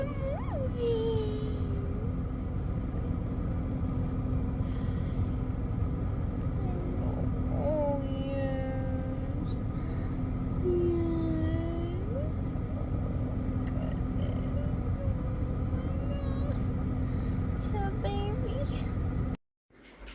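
Steady low engine rumble and road noise inside a moving car on a half-hour drive, constant and fairly loud throughout, with faint tonal squeaks and whines rising over it before cutting off near the end.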